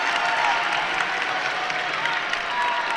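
Steady applause from a large crowd filling the arena at a high school boys' basketball regional tournament championship, a dense continuous wash of clapping that holds evenly throughout.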